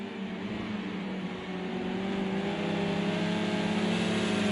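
Touring car engines racing at Imola in a sim race, a steady, dense engine drone holding a constant pitch throughout, fairly loud, with no voice over it.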